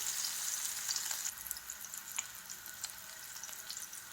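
Turmeric and salt sizzling in hot oil in a pan holding onions, green chillies, large and small potatoes, a steady bright crackle with a few sharp pops, no one talking.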